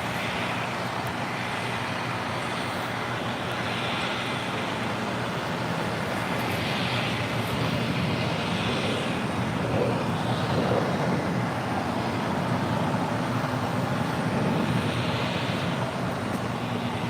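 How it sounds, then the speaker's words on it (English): A United Airlines Boeing 737-900ER jet arrives at LAX, a steady broadband roar of engine and airflow holding at an even level for the whole stretch, with faint traffic-like rumble beneath and no voices. "That was United Airlines Flight 502 coming in from Austin, Texas on the 737-900ER."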